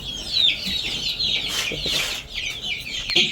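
Chickens and chicks cluck and cheep continuously in a brooder, a dense, busy chorus of high peeping at steady volume with no talk.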